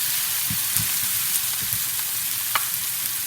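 Zucchini and garlic frying in a hot pan, a bright, dense sizzle held steady throughout, close up, with a few soft utensil knocks and taps against the pan, no one speaking.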